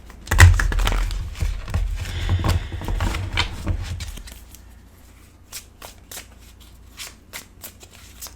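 Cards riffle and shuffle in a dense, close burst for several seconds, then fewer separate flicks and taps as they settle.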